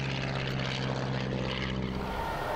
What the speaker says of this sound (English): They cut through the clouds with that familiar heavy sound of combustion whipping around a propeller.